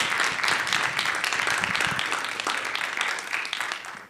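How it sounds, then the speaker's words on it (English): Conference attendees at a market research event give a round of applause, a steady wash of clapping that gradually fades toward the end. "Big round of applause,"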